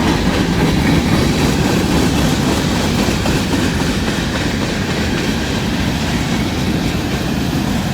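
A long freight train with a DPU locomotive rolls past steadily, giving a continuous loud rumble with faint clickety-clack of wheels over rail joints and no voices.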